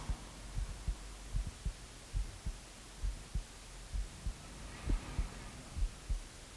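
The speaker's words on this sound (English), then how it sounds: "As you listen to the sounds of your breath and your heartbeat in your ears." Soft, low heartbeat thuds in a calm meditation recording, a steady pulse of muffled beats repeating about once a second under a faint hum, with no voices.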